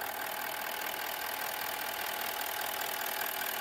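The 4.5-litre turbo diesel V8 of a 2020 Toyota Land Cruiser runs at a steady idle, giving a dense, even clatter and rattle that holds at the same level throughout, with no talking.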